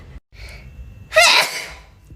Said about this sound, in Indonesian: Aku kalau bersin.